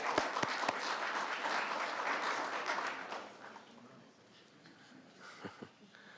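Audience applause fills a city council meeting chamber, a dense wash of many hands clapping that holds steady for several seconds, then thins and trails off into a few scattered claps, with a faint voice near the end.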